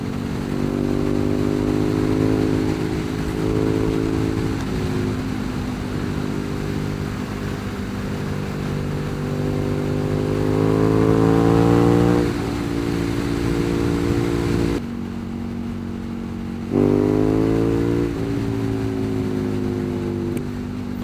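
A KTM Super Duke 1290 R motorcycle being ridden gives a loud, close engine drone that climbs in pitch through each gear, drops at shifts, cuts out briefly, then revs up again under wind rush.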